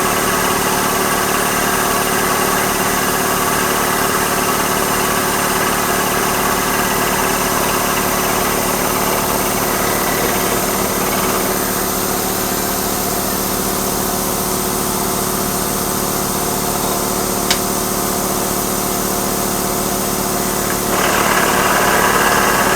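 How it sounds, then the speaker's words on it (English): Milling machine and air compressor running together in a home workshop while steel is machined: a loud, steady mechanical drone with a continuous hum throughout, one brief sharp click late on, and a slight swell near the end; no voices. "Noise of the mill, the compressor when it fires up"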